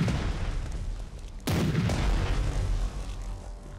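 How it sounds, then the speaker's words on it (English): Big guns go off in a World War II strategy game, one heavy boom landing over a constant low rumble of battle, loud and close, with no voices. "there's also the fear factor of hearing the big guns going off"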